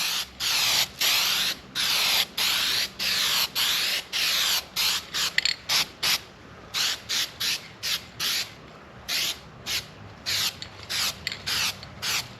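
Spray gun applying a third coat over a fiberglass repair, a series of short, sharp hissing bursts in a rapid stop-start rhythm, close and loud with no talk.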